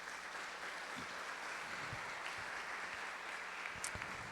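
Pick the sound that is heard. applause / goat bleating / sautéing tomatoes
applause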